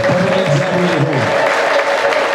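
A church congregation claps in a dense, sustained burst of applause that fills the space, with some cheering voices mixed in and a steady tone running under it.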